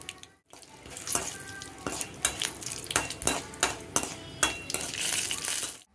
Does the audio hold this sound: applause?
no